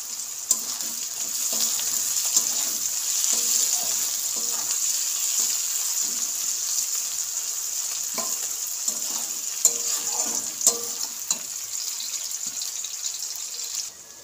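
Four slit green chillies sizzle in hot oil for ghugni, a steady bright hiss of frying that runs throughout, with faint scrapes and taps of stirring scattered across it.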